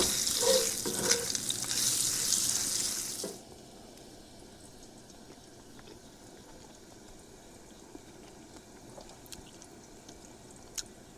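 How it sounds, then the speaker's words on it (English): Potatoes poured into a pan over a camp stove at a forest campsite: a loud frying hiss and crackle fills the first three seconds, then drops to a faint low simmer with occasional small ticks. "Let's just pour them taters right in there just like that."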